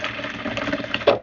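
Sewing machine running a short reverse stitch to finish a seam on a Christmas table runner, a brief close whir of about a second.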